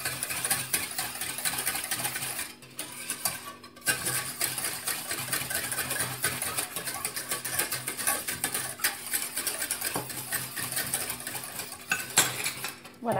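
Lemon cream and two egg yolks are stirred together in a bowl, a utensil clinking and scraping against the sides in a steady, busy rhythm close by, with no talking.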